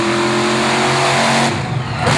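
A monster truck competing in a wheelie contest at a Monster X Tour arena show in Evansville, Indiana, roars at high, sustained revs, then the engine note drops and surges again near the end, loud and close.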